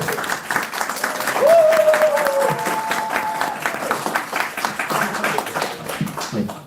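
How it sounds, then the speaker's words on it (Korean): A congregation at a church youth service claps together in steady applause lasting several seconds, with a brief whistle-like tone rising partway through. "같이 박수 한번 치시고"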